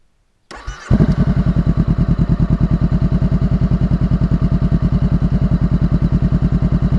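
Motorcycle with a new exhaust starting up after a brief crank, then idling with a loud, evenly pulsing thump, close to the recorder and steady to the end.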